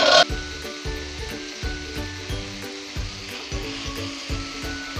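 Boiled beef sizzles in a pan over a slow fire, a steady close frying hiss broken by soft rhythmic stirring or scraping knocks every half second or so, with no talking.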